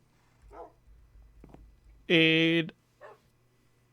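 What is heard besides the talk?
dog (wolf) sounds from the video game Minecraft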